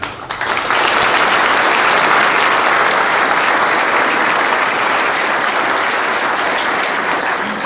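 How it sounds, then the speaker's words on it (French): An audience at a municipal New Year's greetings ceremony in Moret-sur-Loing applauds its security forces, with steady, dense clapping from many hands that holds at full strength for several seconds. "je crois qu'on peut les applaudir."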